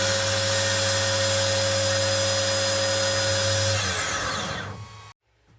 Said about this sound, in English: we will try to drill a hole in a plastic with GCode program